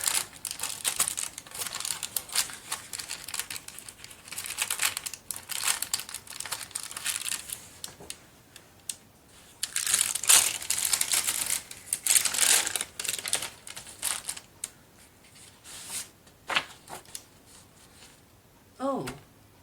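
Craft paper is handled and crinkled at close range, with rustling and crumpling throughout and a sharp tearing rip as a corner is pulled off.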